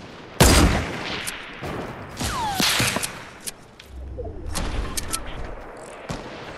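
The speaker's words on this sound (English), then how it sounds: "Watch out for that sniper from southwest 210 on top of the mountain by the telescope" Sharp sniper rifle shots in Fortnite, fired from a mountaintop near a telescope: a loud close crack, a few scattered reports and a whizzing ricochet, then quieter distant pops over a low rumble.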